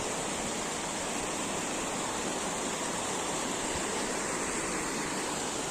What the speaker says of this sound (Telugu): మొత్తం వాటర్ ఫ్లో.